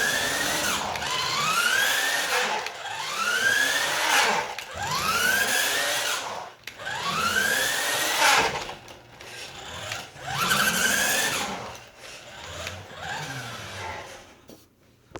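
Tyco Bandit RC truck in low gear with a tire rubbing on the bumper, giving repeated whirring, rising motor surges in a regular rhythm, heard close and fairly loud.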